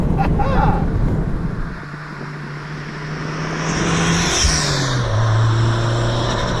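A JDM-swapped 1991 Toyota MR2 Turbo engine, loud and close from inside the car, rises in pitch through the gears with a turbo whoosh, dropping between shifts, amid wind noise.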